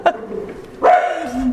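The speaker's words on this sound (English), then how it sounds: "my doorbell just rang, which means my dog's going to go nuts now" A dog barks sharply in two bursts after a doorbell rings at home, the first short and the second a longer, strained bark with whimpering tone, close and loud.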